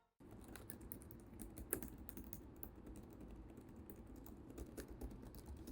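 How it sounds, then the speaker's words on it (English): Typing on the FIREBAT U6B laptop keyboard, soft, quiet key taps in a rapid, steady stream, close and continuous throughout with one slightly sharper click. "typing is comfortable, the keys are soft and quiet."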